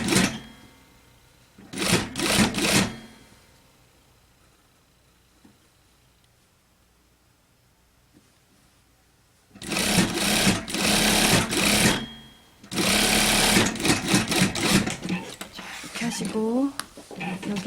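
A sewing machine stitches bias binding on a shirt-collar shirring blouse, close and loud in bursts of rapid whirring, with quieter gaps where a voice speaks.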